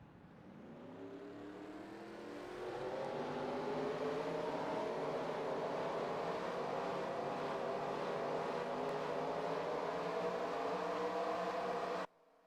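Stock-car engines for the Xfinity 400 at South Carolina in a racing video game drone and build as they rev up, a dense, steady roar that swells over the first few seconds, holds loud, then cuts off abruptly.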